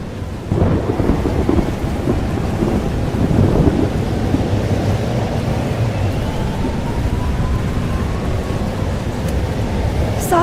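A thunderstorm rages in the video game Life is Strange: Double Exposure, with loud, continuous rain and deep rolling thunder rumbling throughout, steady and enveloping, with no speech over it.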